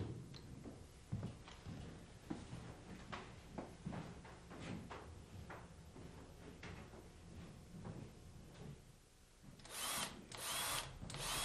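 Power drill driving screws at an angle into wooden window trim for log siding; scattered knocks and handling noise lead into a loud, close whir of the drill near the end, with no talking.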